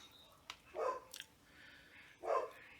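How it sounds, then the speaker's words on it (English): A puppy barks twice indoors, two short sharp yelps about a second and a half apart, fairly near, with quiet room tone between them. "Sorry you're hearing the puppy."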